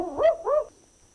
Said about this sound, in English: the barking owl gets its name because it actually sounds like a dog barking